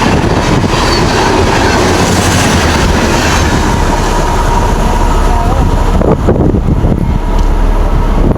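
A train rolls through Piplod railway station, a loud, close, continuous rumble with wheel clatter and a brief squeal, steady across the whole stretch.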